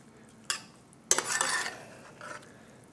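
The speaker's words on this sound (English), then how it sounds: "Stir that up real good while we're going." Spoon stirring spicy tomatoes into food in a cooking pot, giving a couple of close clanks and a scraping, sizzling swirl that fades over a few seconds, with no voices.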